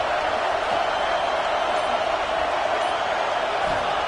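A steady, dense roar of a stadium crowd in the American college football video game NCAA 26 holds constant and loud throughout, with a commentator's voice faintly under it.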